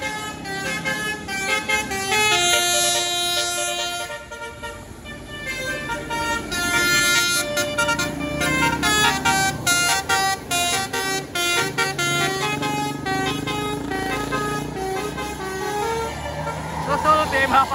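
Telolet musical horns on tour buses along the Pangandaran route in Indonesia, playing loud melodic tone sequences over steady traffic and engine noise, continuing almost without a break from start to finish.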